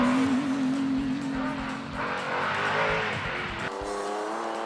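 Danny Brown's CPF trophy truck roars past at the Griffith 400 off-road race, its engine droning steadily and then shifting pitch as it accelerates away, loud and close with no talk.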